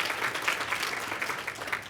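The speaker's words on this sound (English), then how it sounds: "yeah, we can clap." Audience at a library conference closing keynote claps in recognition, a soft continuous patter of many hands at a distance, fairly faint throughout.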